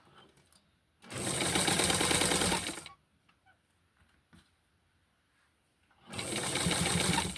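A sewing machine stitches a fabric hem in two close bursts of rapid, whirring needle clatter, each lasting about two seconds, with quiet handling noises between them.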